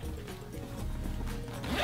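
A zipper is pulled open on a Condor escape and evade bag, a close, quick rasping run of teeth over about two seconds with no talk.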